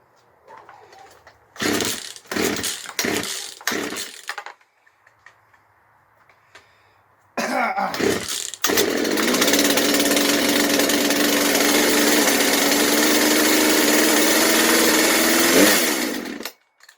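A cold two-stroke chainsaw, just repaired, gives several short sputtering pull-start bursts, then catches and runs at a steady, loud, close idle for several seconds before cutting off.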